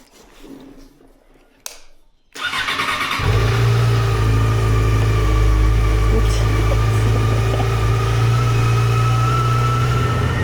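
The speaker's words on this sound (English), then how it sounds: "Today is the last day I'm riding my Yamaha XJ6N because I'm selling it." A Yamaha XJ6N motorcycle sits quiet at first with faint rustling, then its engine kicks in and runs loud and steady close by for the rest of the time.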